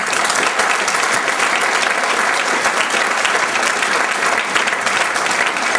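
Theatre audience at a show in Châtel-Guyon clapping loudly and continuously for several seconds, a dense even wash of applause with no talk over it.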